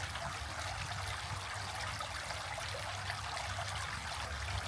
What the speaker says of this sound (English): It's 5 degrees cooler right here at the creek crossing. It sounds so much nicer too.